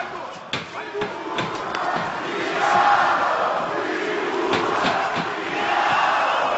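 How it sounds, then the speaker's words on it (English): A large arena crowd at an MMA bout jeers and taunts a heavyweight fighter, a broad swelling roar with scattered shouts and sharp impacts, heard under a commentator's voice. "The crowd taunting Marcin Tybura."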